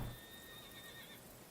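Little horses in the strategy video game Humankind neigh, a single faint high-pitched whinny that rises and fades within about a second over a soft background hiss.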